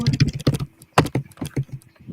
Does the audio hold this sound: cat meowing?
no